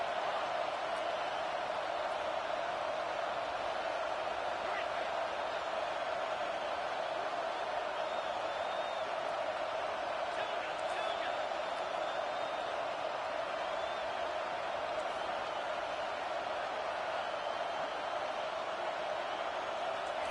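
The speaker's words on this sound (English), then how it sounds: "It's early, but this crowd is fired up. Listen to this noise here." A roaring crowd fills a football stadium early in a game, a dense steady wash of distant noise that holds without pause for about twenty seconds.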